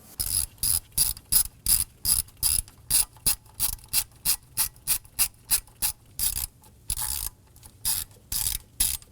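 A socket ratchet clicks rapidly in short repeated bursts, tightening two 10mm bolts on the thermostat housing of a 2016-2020 Kia Sorento 2.4L four-cylinder, close and clear with no voices.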